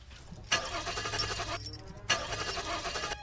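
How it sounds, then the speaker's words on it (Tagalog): A car engine cranks in two bursts separated by a short pause, the starter whirring for about a second each time without the engine catching, fairly faint and close. "Subukan mo kaya uli i-start yung kotse."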